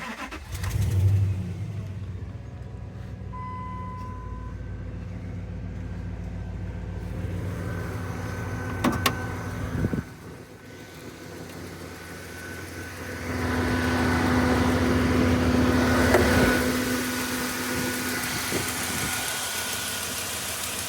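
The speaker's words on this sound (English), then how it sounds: "Hear the exhaust manifold tick" A 2003 Dodge Dakota 4x4 pickup with a V8 and a 5-speed runs close by, its exhaust manifold ticking. The engine holds a steady idle, then revs up for a few seconds before settling back, with no talk over it.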